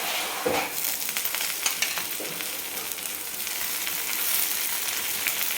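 Karadi (safflower) greens hit hot oil in a pan with fried onion and garlic, bursting into a loud, close sizzle and crackle that settles into a steady frying hiss, with no talking.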